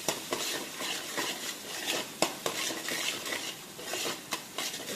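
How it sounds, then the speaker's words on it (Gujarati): A spoon scrapes and clinks through spiced bhungla potatoes in a pan, steady stirring with faint sizzling and sharp metallic taps at irregular intervals. "અને પાછું મિક્સ કરી દઈશું"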